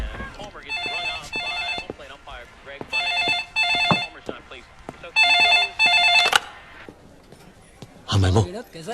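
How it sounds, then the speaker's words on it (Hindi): A telephone rings in repeated bright bursts separated by short pauses, followed by a brief louder thump near the end. "बॉस फोन कहाँ है? फोन वहां पर है।"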